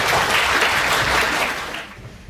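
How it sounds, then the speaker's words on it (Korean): A children's audience at an awards ceremony and lecture in Australia claps in a steady, dense burst of applause that fades out toward the end, with no talking over it. "자, 박수."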